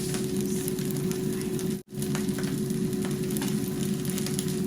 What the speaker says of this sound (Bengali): এখন ফ্রাই দিলাম